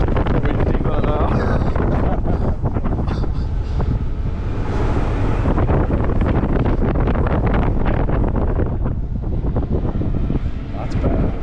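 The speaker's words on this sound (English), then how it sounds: "It says it's proper windy" Strong wind buffets the microphone at Flamingo Land theme park, a loud, continuous broadband roar with gusting surges throughout.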